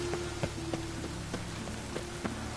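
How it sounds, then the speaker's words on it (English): Rain pouring in The Witcher 3, a dense steady hiss with scattered louder drops and faint thuds mixed in, continuous and without talking. "Lots of fuss over lots of rain."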